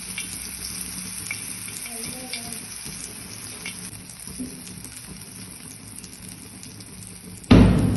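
Brinjal slices shallow-frying in hot oil in a pan give a steady, close sizzle and crackle throughout, with a louder clatter right at the end.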